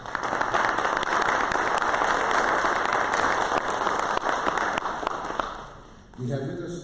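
Guests at an Athletic Hall of Fame ceremony give a sustained round of applause, a thick, even wash of clapping that tapers off before a voice starts speaking at the very end.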